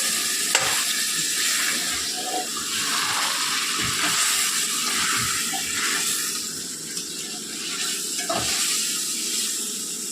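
Masala being stirred into country chicken curry in a pan, a steady sizzle and fry with scraping stir strokes throughout, close and continuous with no talk.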